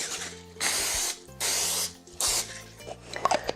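Three bursts of an aerosol cooking spray can onto a baking pan, each hissing for about half a second, close by, with light clinks and rustling afterward.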